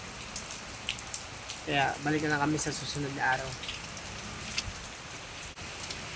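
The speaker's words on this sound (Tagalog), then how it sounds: "Lakas na talaga ng ulan." Heavy rain pouring down steadily in a small town in Tolosa, Leyte, a dense, even hiss of falling water with scattered drips, while someone speaks briefly over it.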